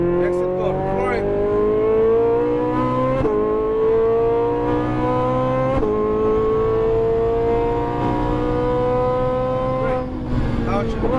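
A Ferrari 458 Italia accelerates hard on a race track, its engine revving up in long climbing pulls with quick drops at each gear shift, loud and close, while a voice talks over it.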